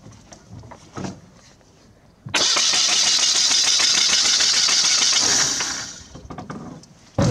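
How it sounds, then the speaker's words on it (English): An old car's engine is cranked and catches, settling into a loud, steady running roar for several seconds before cutting back, with quiet handling noises before and after. "If I start the engine,"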